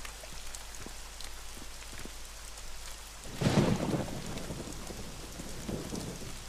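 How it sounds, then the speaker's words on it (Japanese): Heavy rain pours steadily in the video game Home Sweet Home, with a deep rumble of thunder rolling in midway and fading under the continuing downpour. "めちゃ雨降ってきた。"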